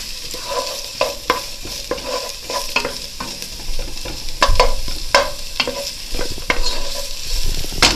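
Onion heats and softens in a pot for zucchini noodle soup, giving a steady close sizzle broken by repeated scraping stirs.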